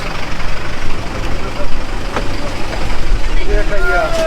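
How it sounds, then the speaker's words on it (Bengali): A crowded local bus on the road near the Bangladesh border, its engine rumbling loudly and steadily with road noise and a few rattles, while people talk over it. "তো আমরা আজকে এই বাসে করে যাব যেটা যে বাসটার নাম হচ্ছে সুরেনজিৎ"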